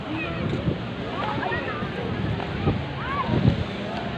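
Sea water splashes and sloshes against rocks along a crowded shore, a continuous near wash with small bursts, while people's voices chatter faintly underneath.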